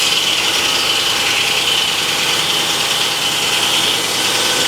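A big Frick sawmill is shaving a thin cut off an oak log; the blade and engine make a loud, steady grinding drone that holds without a break, with no voices.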